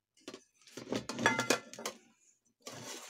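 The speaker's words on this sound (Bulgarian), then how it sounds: "Това е капакът на тенджерката, който сам по себе си може да се използва и като някакво тиганче" A metal pot lid from a camping spirit-stove cookware set is handled, giving a series of close, bright clinks and clatters with a short pause before a final rattle.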